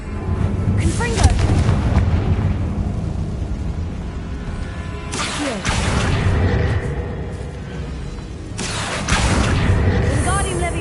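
A Confringo blasting spell from Hogwarts Legacy goes off in repeated heavy explosive booms, three loud bursts separated by rumbling decays, close and dominant with no talk.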